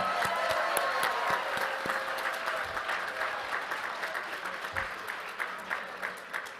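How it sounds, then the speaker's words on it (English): A commencement crowd at KGI's Henry E. Riggs School of Applied Life Science applauds Master of Science graduates with steady, moderately loud clapping that slowly tapers off. "Have a round of applause, please, for our Master of Science in Applied Life Science graduates."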